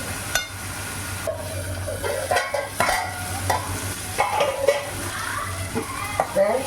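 Fish curry masala sautéing and sizzling in a pan, with a spoon scraping and stirring in irregular bursts over a steady low hum, close and fairly loud, with brief faint voices in the background.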